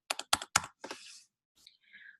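Keys clatter on a computer keyboard as a zip code is entered, a few distinct taps then a brief softer run, followed by faint electronic tones.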